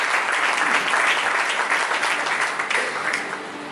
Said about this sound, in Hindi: परमेश्वर के लिए जोरदार ताली बजाए एक बार।